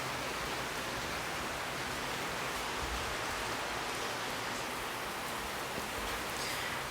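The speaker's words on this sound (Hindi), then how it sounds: "बारिश भी हो रही है।" Steady rain falls outside during a power cut, a continuous even hiss of drops holding at a constant level for the whole stretch with no voices over it.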